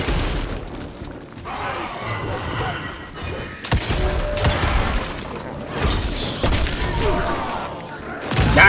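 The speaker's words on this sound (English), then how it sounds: "Explosions!" Explosions in the video game Evil West, a string of sharp booms and thuds mixed with gunfire and clattering, loud and uneven, with a player's voice over parts of the action.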